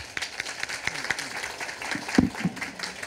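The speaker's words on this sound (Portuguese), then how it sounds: "Palmas para os nossos participantes, os nossos painelistas aqui da primeira atividade da nossa Arena Inspiração." Audience at a panel session on ESG practices for the natural products sector applauds, scattered claps rising to a brief burst with a voice over them.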